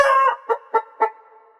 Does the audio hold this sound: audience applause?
no